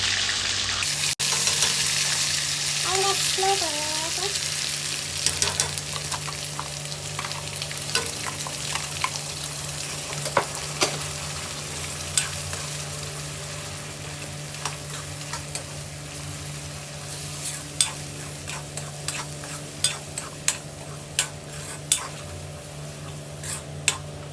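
Ground spice paste fries in a pan with bay leaf and cumin, giving a steady close sizzle and hiss with sharp clinks and scrapes from stirring throughout, no voices.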